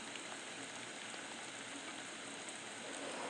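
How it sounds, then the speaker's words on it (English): Steady rain pattering on leaves, a continuous dense hiss of drops forming a calm, even soundscape from a meditation app, with no voices. "Rain on leaves."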